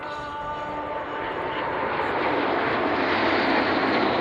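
Breitling Jet Team aircraft at the Royal International Air Tattoo 2011 air show, a steady roar of aircraft engines swelling louder as the formation passes, heard alone without talk.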